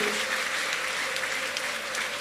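A church congregation claps steadily together, a dense, continuous wash of applause filling the room.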